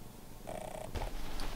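A cat purrs close by, a soft steady rumble lasting about a second and a half with a brief louder stir near the end; no one speaks.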